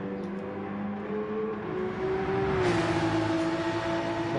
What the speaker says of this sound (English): that Porsche starting to come alive round here as it does drop off a little bit of fuel